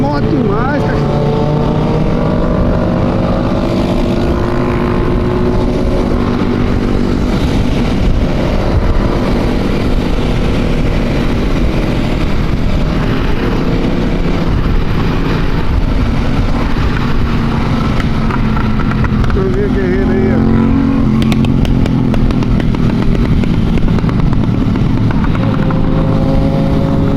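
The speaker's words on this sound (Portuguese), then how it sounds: "É moto demais, cachorro." A large convoy of over 400 motorcycles riding together on a road trip in Brazil, a loud continuous roar of many engines close by with shifting revving tones throughout, and someone talking over it.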